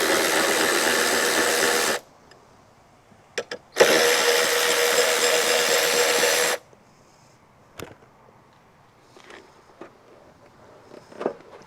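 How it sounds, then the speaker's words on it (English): A small power ratchet whirs in two loud bursts, about two and three seconds long, while removing seat bolts on a Moto Morini X-Cape motorcycle, followed by quiet clicks and handling noises. "So I've got my little power ratchet here."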